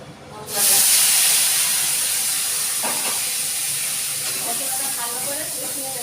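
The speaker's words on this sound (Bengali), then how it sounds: "দিয়ে এখন মশলাটা আমি দিয়ে দিচ্ছি, তেজপাতাও দিয়েছি, দিয়ে দিয়ে দিচ্ছি মশলাটা।" Spice paste (masala) with bay leaf hits a hot pan for kabuli chickpea ghugni, a sudden loud sizzle that settles into a steady hiss, with faint clatter partway through.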